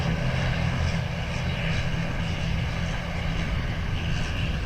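Jet airliner powering up for takeoff from runway 10 right at Dublin Airport, a loud, steady engine roar with a low rumble and broadband hiss that holds constant throughout.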